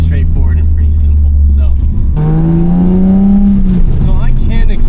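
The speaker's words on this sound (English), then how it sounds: "So I can accelerate, I can ease into the throttle" A 1970s Datsun 280Z with a naturally aspirated engine and FAST EZ EFI fuel injection revs up under throttle, its loud engine note rising steadily in pitch, heard close up.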